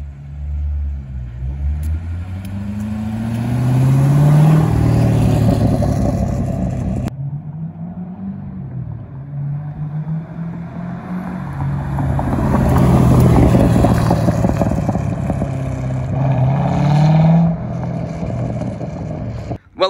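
A loud C6 Corvette exhaust roars as its valves open automatically and the engine revs up twice, rising and falling in deep surges with no talking.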